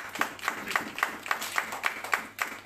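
Church congregation at a worship service clapping in a steady rhythmic beat, about two claps per second, sharp and fairly close, with no talking over it.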